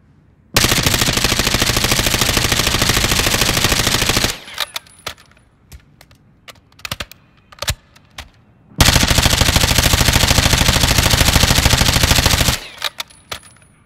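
Two long sustained bursts of automatic fire from the JAK Decimator during a recoil test on a video game range, each followed by scattered clinks and short shots, loud and close with no talking.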